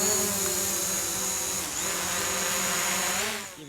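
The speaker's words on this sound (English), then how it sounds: "So let's look at the roof via Stone the Drone" Camera drone starting up and flying near a Jayco Precept RV, a loud steady high-pitched propeller whine with buzzing harmonics that dips briefly and then holds, close and without talk.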